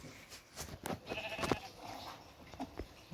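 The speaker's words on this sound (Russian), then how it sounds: "Овца." Sheep bleats from the Minecraft video game sound faintly on a game farm. Short bleats rise among clicks and small game noises, all at low level.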